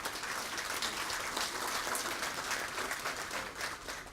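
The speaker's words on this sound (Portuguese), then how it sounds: "peço uma salva de palmas para ela, que é um exemplo." An audience at the opening session of an engineering congress gives steady, even applause for an honored guest, with dense clapping throughout at moderate distance.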